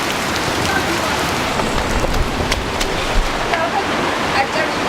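A torrential downpour falls in Ethiopia around an outdoor food hut, a dense, loud, continuous hiss of rain hammering surfaces with scattered nearby drips and splashes.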